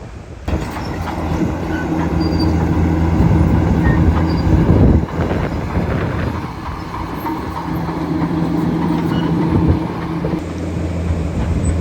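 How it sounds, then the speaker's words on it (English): Heavy machinery levels a beach in Portugal, an excavator and a bulldozer grinding in a loud, continuous diesel rumble with clanking and scraping of tracks, steady and close, with a brief surge of grinding noise midway. "Bulldozer's now pushing this big heap out that the excavator's brought up"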